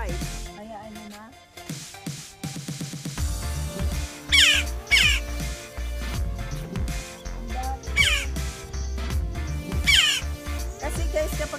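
A pet jackdaw gives harsh, squawking caws in a backyard during raspberry picking, with several sharp calls standing out over a steady background of other outdoor noise.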